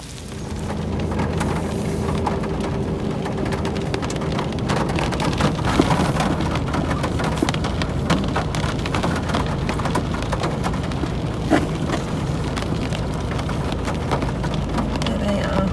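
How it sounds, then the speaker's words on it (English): Steady rain falls outdoors on a cloudy high pasture while cows are moved, a dense unbroken hiss of drops on surfaces filling the whole stretch without a break. "Still raining."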